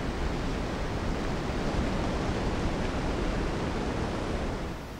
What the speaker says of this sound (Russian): Вы послушайте, как он журчит. Точнее, нет, он не журчит, он шумит.